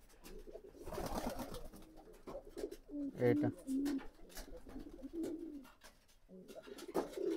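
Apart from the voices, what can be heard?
pigeons cooing after release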